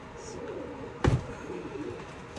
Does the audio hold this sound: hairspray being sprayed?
no